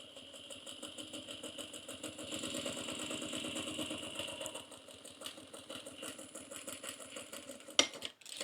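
A sewing machine stitches down the side of a bag lining at a 3/8-inch seam, a faint, steady rapid clatter that slows and fades near the end, followed by a sharp click.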